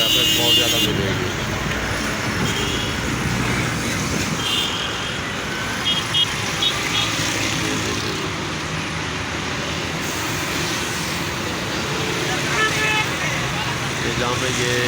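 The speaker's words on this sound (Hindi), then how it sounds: "ये आप देख सकते हैं ट्रैफिक का कितना रश है।" Busy road traffic on Jail Road in Lahore makes a dense, constant roar of passing vehicles and engines, with occasional horn toots, heard from close by and continuing steadily throughout.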